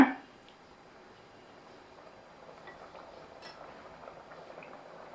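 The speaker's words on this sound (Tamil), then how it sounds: "இப்போ ஓப்பன் பாட்லேயே வச்சு" Faint, soft bubbling of a chicken curry simmering in an open pot, low and steady with occasional small pops, no voices.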